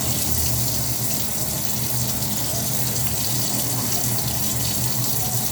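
Small stove parts washed under a steady, loud stream of running sink water, with an even gush of water throughout.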